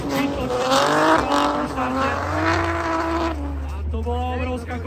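Demolition race car on a qualifying run through a street circuit in a city centre, its engine revving loud and rising and falling continuously over the whole stretch, with commentary talk over it.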